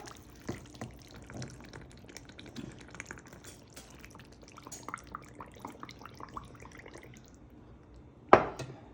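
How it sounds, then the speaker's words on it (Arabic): Water is poured over stuffed vegetables (mahshi) in a cooking pot, giving close, irregular splashing and dripping that ends in a sharp clatter near the end. "هنجيب المحشي بتاعنا ونحط عليه الميه"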